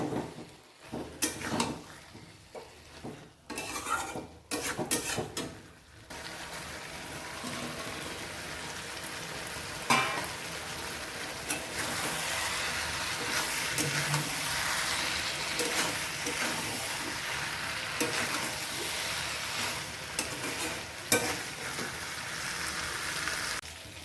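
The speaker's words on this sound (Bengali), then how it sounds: "মাছের ডিমটা সুন্দর সিদ্ধ হয়ে গেছে, এখন আমি এটার মধ্যে মাছগুলো দিয়ে দেবো।" Pieces of katla fish dropped into a pan of bubbling curry, first a few loud clunks and splashes, then a steady close hissing sizzle that carries on evenly for the rest.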